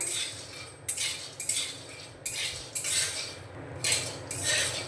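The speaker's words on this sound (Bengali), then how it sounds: "দেখুন বাদামগুলো পটপট পটপট করে ফাটতে শুরু করেছে" Dry, crackly bursts of popping and rattling recur every second or so as peanuts dry roast and crack in a pan over a low-to-medium gas flame while being stirred, with no voices.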